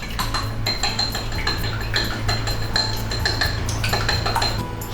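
A fork rapidly beats one egg with salt and pepper in a small bowl, producing quick, rhythmic clinking taps against the bowl that continue steadily and close by without talk.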